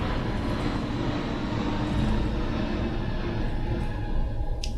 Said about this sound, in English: That's IRL noise you're hearing. That's a plane.